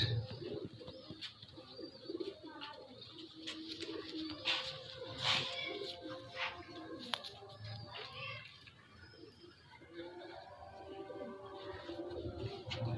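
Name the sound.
old Salara Teddy pigeon cooing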